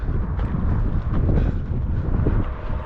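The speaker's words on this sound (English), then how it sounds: "It's very windy." Strong wind at the Iowa 80 Truckstop buffets the microphone in a constant, heavy roar with gusty swells, blowing dirt around, filling the short stretch with no other sounds.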